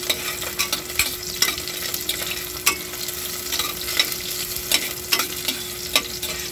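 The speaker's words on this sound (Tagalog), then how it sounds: "Isa-gisahin po muna natin itong ating mga ricado." Onion and ginger sauté in a pan, giving a steady close sizzle broken by repeated sharp stirring scrapes and taps at irregular intervals, with no voices.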